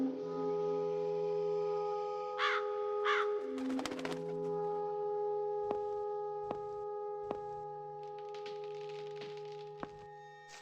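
Large black crows give two clear caws, then a burst of cawing in a ghost-hunting adventure game's overgrown graveyard, over sustained tonal music with soft knocking thuds scattered through the rest.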